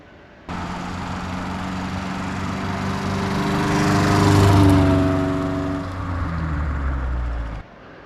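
Mk1 Ford Fiesta fitted with a Zetec engine runs close by with a steady buzzing idle that swells briefly in revs before settling, then cuts off.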